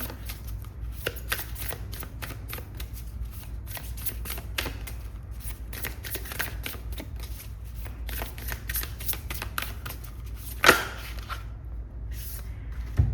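A deck of oracle cards is shuffled close up in a long run of rapid, crisp riffling flicks, with a louder snap toward the end.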